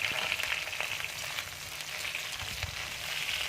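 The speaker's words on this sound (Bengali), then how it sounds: "এবার বেগুনটা আমি দিয়ে দিচ্ছি তেলের মধ্যে।" Eggplant sizzles steadily in hot oil for an Indian aloo begun tarkari, a dense, continuous close-up hiss with small crackles and no talking.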